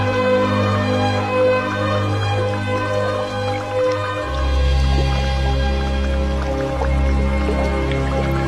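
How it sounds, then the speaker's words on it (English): River water fizzing with rising oxygen bubbles in late afternoon, a steady soft wet crackle of tiny drips and pops layered over a constant low hum, close and continuous throughout. "bubbles of oxygen make the river water fizz like champagne"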